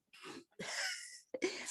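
Sharp, explosive bursts from a person in a city council meeting, a short breathy one followed by a louder noisy blast and a quick final burst, close and clear in a quiet room.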